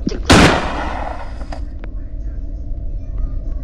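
A single shotgun shot booms loudly in the video game Granny, followed by a decaying rumble and a few faint clicks in the background.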